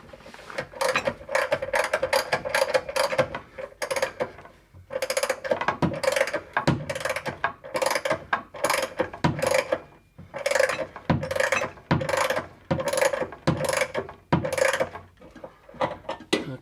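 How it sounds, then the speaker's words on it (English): Hand ratchet driving bolts into threads clogged with sealer and paint while reassembling a 1966 Mustang quarter glass, rapid clicking bursts repeating in a steady rhythm with short pauses, close and loud, no speech. "and then you just stick these here bolts in"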